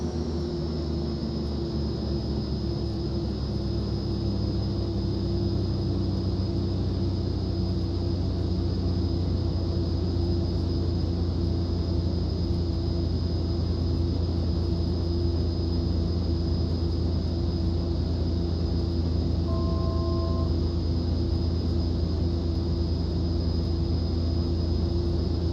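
A steady, loud aircraft engine drone with a low rumble and a constant high whine while a plane taxis to parking in the X-Plane 11 flight simulator, unbroken throughout with no speech.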